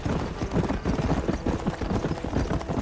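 Horse hooves clip-clop at a steady trotting rhythm in the Western video game Red Dead Redemption, loud and close throughout.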